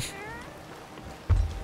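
A cat meowing in the pirate game Sea of Thieves, a few drawn-out wavering meows up front and fairly close, followed by loud low thumps and noise near the end.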